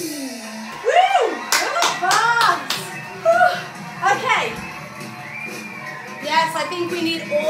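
Group of people at a lively lesson clapping and cheering, bursts of hand claps and excited shouts including children's voices, loud and close, with talk mixed in throughout.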